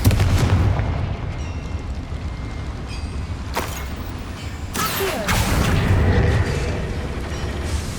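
A Confringo spell explodes in the video game Hogwarts Legacy, giving sharp booming blasts and crackling bursts over a steady rumble of background ambience.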